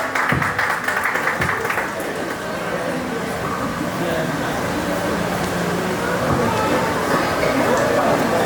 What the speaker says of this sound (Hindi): दोनों बच्चों के लिए तालियां।